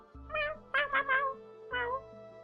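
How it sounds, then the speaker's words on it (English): A pet cat named Marjorie gives a short run of close, clear meows, three or four bright, rising-and-falling calls in quick succession in a quiet room. "She just comes at me and goes, meow."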